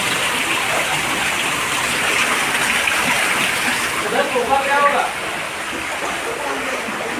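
Floodwater from monsoon rain pours and rushes steadily inside a flooded house, a dense, close, continuous wash with a brief splashing swell near the middle.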